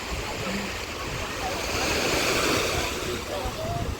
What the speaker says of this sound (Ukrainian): Зараз друга година дня, хвиля стала більшою.